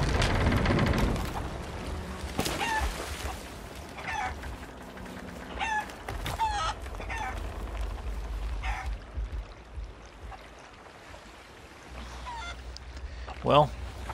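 Chickens cluck and squawk aboard a sinking ship in the pirate game Sea of Thieves, with intermittent bird calls and one sharp squawk near the end over a constant wash of water and creaking, while a voice talks at times.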